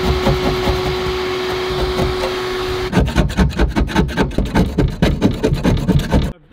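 A vacuum cleaner works on a Craigslist boat restoration at night, a steady broadband whoosh giving way to rapid, rhythmic rasping pulses as the nozzle drags and bumps across surfaces, loud and close.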